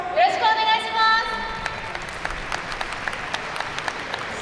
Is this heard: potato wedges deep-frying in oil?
no